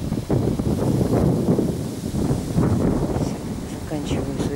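Hot-weather wind outdoors in Eastern Siberia, gusting steadily across the microphone with rustling noise, under someone talking throughout.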